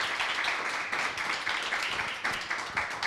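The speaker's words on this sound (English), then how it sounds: "Let's give them another round of applause." A town hall audience on mental health claps for a panel, a steady, full round of applause that keeps its level through the short stretch with small pulses of clapping.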